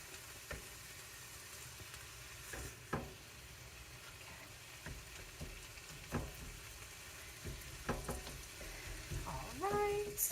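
Ingredients for a one pot Mexican rice casserole browning in a pot, a faint low sizzle with scattered soft clicks and stirring knocks, an engine-like hum and a brief tonal sound near the end.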